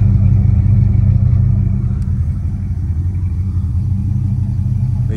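A big-block engine in a 1986 Buick Regal Limited G-body with Holley EFI idles steadily, a deep continuous low rumble held close and loud throughout, with no talk.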